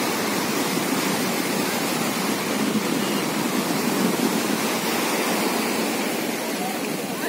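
The flooded Kalisindh river in Jhalawar, India, after heavy rain gives off a loud, unbroken broadband roar of rushing water that stays steady throughout.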